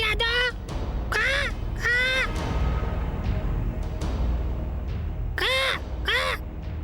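A crow caws repeatedly in short bursts of two or three harsh calls, close and loud, set in a TV drama scene with a steady background hum.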